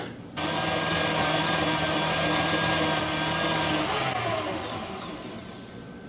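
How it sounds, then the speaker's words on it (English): Electric mixer fitted with a whisk whipping cake frosting to stiff peaks, a loud steady motor whir starting abruptly and running continuously, easing slightly toward the end. "And I'm going to get that in my mixer and start whipping it up"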